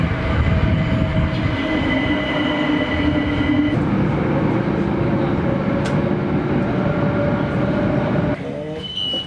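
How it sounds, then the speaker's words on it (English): A noisy London Overground train rumbles past close by with a continuous loud roar, faint wheel squeals and tonal whines, then the sound drops near the end as it moves off. "They're just noisy trains."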